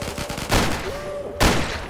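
Gunfire crackles in the Zombie Panic! Source video game, with two loud bursts of shots about a second apart mixed with game noise.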